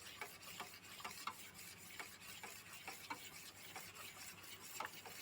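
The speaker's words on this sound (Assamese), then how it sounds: "এতিয়া মই এনেধৰণে লৰাই থাকিম। অলপ দেৰি লৰাব লাগিব এনেধৰণে।" A homemade soap mixture with five vitamin pills added is stirred steadily in a container, giving a soft, continuous rubbing swish broken by faint regular scrapes, close and quiet, with no talk.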